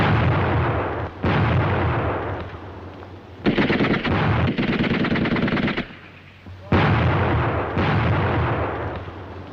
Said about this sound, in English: The grenades open up the charge.